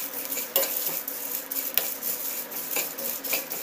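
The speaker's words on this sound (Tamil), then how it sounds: "அடுப்பை நிறுத்திட்டு அப்படியே சும்மா கொஞ்சம் நேரம் கிளறி விட்டுட்டே இருக்கலாம்." Whole spices such as cumin are stirred in a hot pan with the heat switched off while roasting for homemade garam masala: a spoon scrapes and rattles the pan steadily, with light crackles and clinks, close and alone.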